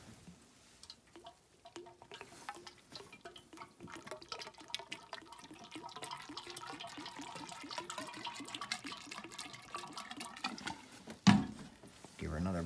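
Water rushing and gurgling through the heater core of a 2002 Dodge Ram 1500 during a flush, a steady sloshing stream that builds toward the end with a brief loud burst, with people talking over it.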